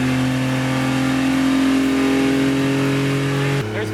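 A small car's engine revs hard at wide open throttle, giving a loud, steady, rising drone from inside the cabin that drops off abruptly near the end.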